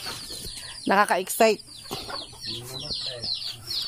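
Backyard chickens cluck and squawk close by in short, choppy bursts, with two louder calls early on and softer clucking after, while a person speaks briefly over them.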